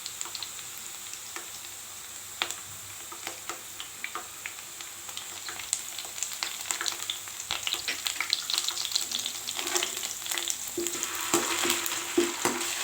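Ginger garlic paste sautéing in a pan for a bitter gourd curry gives a steady close sizzle, crackling and popping throughout, with occasional stirring scrapes and spatter growing busier toward the end.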